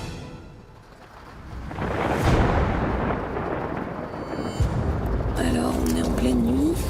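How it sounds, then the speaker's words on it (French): A night thunderstorm rolls over a rough shelter in the Bulgarian wilderness, with heavy rain and deep rumbling thunder building into sustained roaring noise; a loud crack of thunder hits partway through, and a voice cuts in near the end. "on est en pleine nuit et on vient de se prendre un orage sur la tête"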